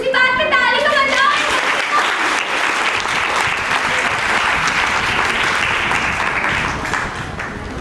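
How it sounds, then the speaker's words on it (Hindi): Audience applause at a seminar on happiness through humour and a stand-up comedy competition, a dense, steady burst of many hands clapping that fills the room for several seconds before tapering slightly at the end, with a voice briefly heard at the start. "तो इसी बात पे ताली तो बजाओ।"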